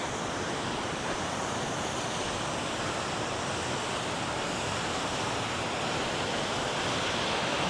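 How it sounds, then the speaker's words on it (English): A natural waterfall at Lassen Volcanic National Park, a steady dense roar of falling water with no breaks, broad and constant, with some wind on the microphone and no voices. "With the amazing natural waterfall."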